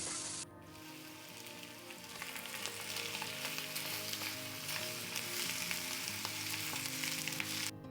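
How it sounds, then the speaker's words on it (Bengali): Chopped onions sizzle steadily in hot oil in a pan on high flame for an egg curry, a dense, even crackle with faint stirring scrapes, no voices. "কুচিয়ে রাখা পেঁয়াজগুলি দিয়ে ভালোভাবে ভেজে নেব।"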